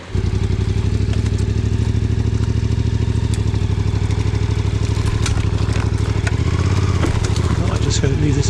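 A motorcycle engine runs steadily nearby through an overgrown lane, a loud even throbbing drone with faint twig and branch rustle on top.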